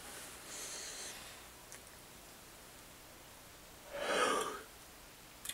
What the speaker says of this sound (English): Alright, I got a good yawn in.